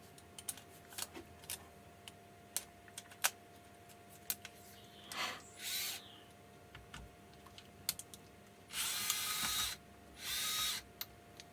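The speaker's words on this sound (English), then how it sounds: "Screwdriver." Screwdriver working the screws on a Specialized Levo/Kenevo Gen 2 700Wh e-bike battery, giving scattered small clicks and ticks followed by two longer bursts of close scraping and rattling, with no talking.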